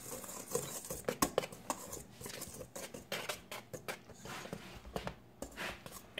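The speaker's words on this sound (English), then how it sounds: "I'm going to use my whisk. Down here and whisk it all together" Spice cake batter whisked in a bowl gives a quick, uneven run of light scraping clatter and clicks, moderately quiet and close, with no talking.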